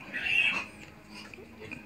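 A native pig gives a short grunting call on a farm, near and moderately loud at first, then fading into quieter low rustling and faint background noise.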